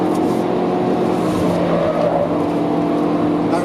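A race car lapping the Nordschleife circuit, its engine droning loudly and steadily under load throughout while the car slides through the corners, with no voices over it.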